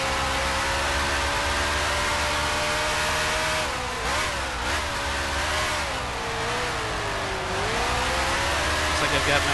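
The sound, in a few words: race car engine in Grand Prix Legends video game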